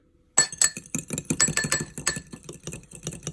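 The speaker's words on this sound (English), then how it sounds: "Now that we've separated our yolks, you can go on ahead and give that a light whisk." A whisk clinks lightly and quickly against a bowl as separated egg yolks are beaten for an old-fashioned banana pudding, a close, rapid run of small metallic taps that starts abruptly.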